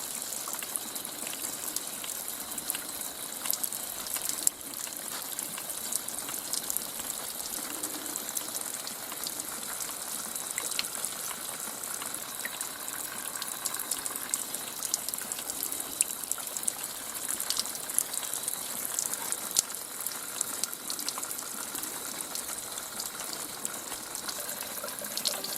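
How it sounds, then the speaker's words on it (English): Water dribbles steadily down a cliff face at Long Pool Falls in late-season November, a continuous close hiss and trickle with no voices. "It's just dribbling, little dribbling coming down this cliff face here."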